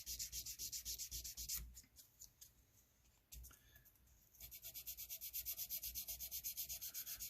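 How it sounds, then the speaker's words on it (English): Jumbo frets on a Jackson compound-radius guitar neck are crowned with close, rhythmic back-and-forth sanding strokes that briefly pause in the middle and then resume in a steady pattern. "rolling over the top ever so slightly to get that very high center of the crown sanded off"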